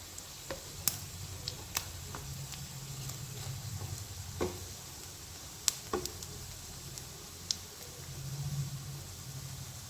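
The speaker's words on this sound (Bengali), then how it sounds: "এখানে কিছু কেচকি মাছের বড়া ভাজার জন্য আমি দিয়ে দিয়েছি।" Small kechki fish fritters fry in oil with a soft, steady sizzle, dotted with sharp crackles and spatters through the quiet background.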